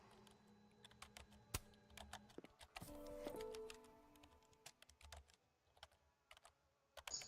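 A character types on a computer keyboard in the Life is Strange game, producing a steady run of crisp, close key clicks with a brief mechanical rattle partway through, at low level.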